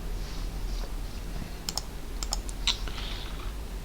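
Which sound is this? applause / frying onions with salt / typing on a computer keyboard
typing on a computer keyboard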